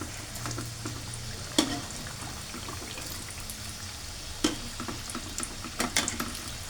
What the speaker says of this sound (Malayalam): നമുക്കിതൊന്ന് വറുത്ത് കോരിയെടുക്കാം.